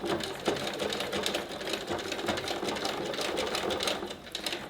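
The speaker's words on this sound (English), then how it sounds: "put down the foot, and you're going to do back and forth stitch to secure that piece of elastic in place" A sewing machine runs steadily, stitching back and forth over elastic while sewing a face mask, with rapid needle clatter throughout.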